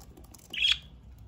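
A pet budgie lets out one brief, shrill squawk in a quiet room, a single sharp burst in the middle of near silence.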